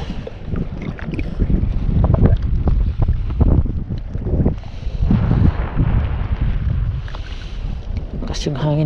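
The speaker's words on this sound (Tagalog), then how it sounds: "Lakas yung hangin bigla," Strong, cold April wind buffets a boat out on the water during bait-and-wait fishing, roaring and gusting in uneven surges with heavy microphone rumble, plus a faint brief tone near the end.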